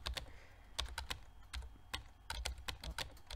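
Keyboard typing in the video game Emily is Away: bursts of crisp, close key clicks in uneven runs with short pauses between them, heard alone without talk.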